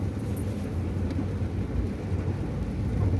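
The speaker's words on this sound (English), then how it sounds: "Water rushing coming out of that car park." Floodwater rushing out of a car park during Hurricane Tammy in the Caribbean, a loud, dense, continuous roar of churning water with no pauses.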